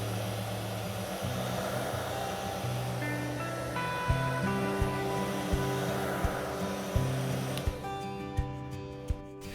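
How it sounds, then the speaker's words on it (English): Hair dryer blowing hot air onto the display of an iPhone 11 Pro Max during a repair, a steady close whoosh with a constant hum and faint periodic clicks, no talking. "Take a hairdryer and heat the display surface for 1 or 2 minutes"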